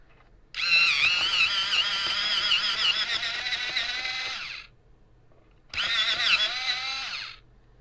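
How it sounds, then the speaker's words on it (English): An electric pencil sharpener grinds a pencil in two bursts, a long whirring drone of about four seconds, a pause, then a shorter second run, close and loud with no talk. "So let's see how it sharpens, because I've never"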